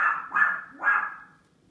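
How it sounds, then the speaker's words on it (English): A small dog barks twice in quick succession, near and fairly loud, with the second bark trailing off into quiet room sound during a deco mesh wreath craft session. "Sorry, my little dog Parker's barking."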